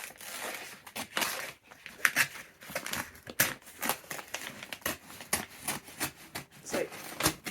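Paper packaging wrapped around a fabric parcel is peeled and torn open up close, with irregular bursts of crinkling, rustling and tearing spread across the whole stretch and no one talking.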